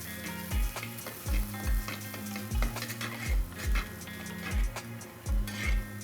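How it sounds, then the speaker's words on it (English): A finely chopped medium onion sautés in a pan, with a soft continuous sizzle broken by regular scraping spatula strokes about every second, loud and close. "We have to only saute the onions till they are translucent."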